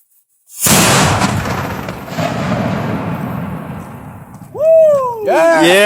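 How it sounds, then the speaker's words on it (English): A homemade sparkler bomb goes off outdoors with a sudden loud blast, followed by a long rumbling roar that slowly fades, and then people whoop and cheer loudly. "That's how you make a sparkler bomb, buddy."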